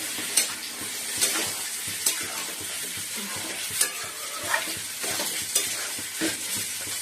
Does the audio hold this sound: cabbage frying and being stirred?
yes